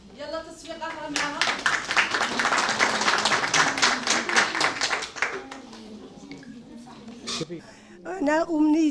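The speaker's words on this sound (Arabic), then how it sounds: "يلا تصفيق اخرى معها." Audience applause and rhythmic clapping at an association's ceremony in Oran honouring mothers who memorised the Quran, a dense burst of many hands lasting several seconds before fading, with someone speaking afterward.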